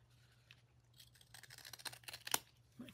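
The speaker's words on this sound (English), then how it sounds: "Scissors." Scissors trim paper for a junk journal in a quiet room, giving a few faint snips that build to a sharper cut near the end, with no talking.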